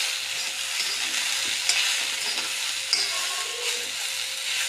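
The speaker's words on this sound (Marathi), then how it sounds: "एकसारखं मिक्स करूया" Okra bhaji stirred in an iron pan, a steady scraping and sizzle with two sharp clicks of the spoon against the metal, close and alone, with no talk.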